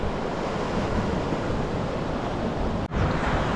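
Surf rolls in steadily at the shore in Icacos, Trinidad, a constant loud wash of breaking waves with wind buffeting the microphone, briefly dipping near the end before resuming.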